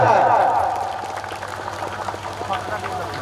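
Applause from an audience at a commemoration day event at Gyana Sarobar Tutorial in Kumbhilo, Khordha: a dense wash of clapping that rises after a brief voice and continues steadily to the end.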